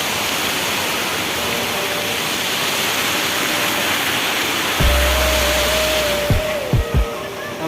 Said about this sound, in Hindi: ये हो गया वेस्ट कार्डेंगमा वाटरफॉल कोलोंगा